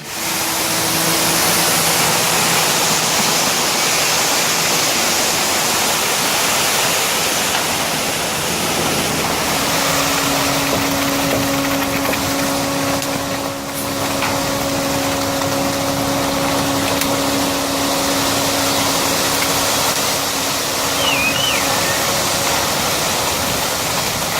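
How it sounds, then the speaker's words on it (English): A concrete truck runs steadily while concrete is poured and screeded flat for a driveway parking pad, making a loud continuous engine rumble and rushing noise with faint tonal whines that shift partway through. "It's what they call screeding, that they're making it all flat all the way across."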